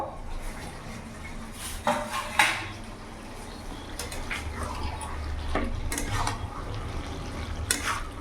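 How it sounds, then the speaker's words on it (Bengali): Metal clanks and scrapes from a cooking pot of bottle gourd with rohu fish head as its lid comes off, a few sharp knocks over a soft simmering hiss, close by. "ঢাকাটা খুলে এবার দেখবো।"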